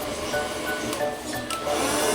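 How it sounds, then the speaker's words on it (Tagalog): Pet blow dryer running steadily at full power to dry a dog's fur after a bath, a continuous airy whooshing roar with no talk over it. "tinodo na natin yung blower para mabilis siyang matuyo"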